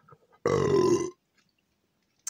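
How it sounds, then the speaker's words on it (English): A single loud, close burp lasting about half a second comes after tasting a Canadian military ration lamb stew, with near silence before and after. "There's your first baby pea burp of the review"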